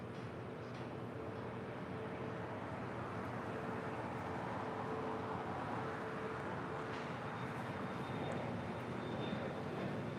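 An American Airlines Airbus A321neo arriving from Miami at LAX gives off a steady, continuous jet roar that holds at an even level throughout, with no voices heard.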